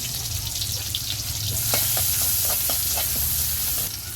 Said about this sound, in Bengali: ওই কড়াইতে এখন বাগার দিব এই যে শুকনো মরিচ দিয়ে দিলাম এই যে রসুন কুচি দিয়ে দিলাম